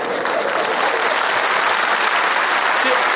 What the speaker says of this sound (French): Oui, tu peux applaudir, c'est bon, ça fait pas mal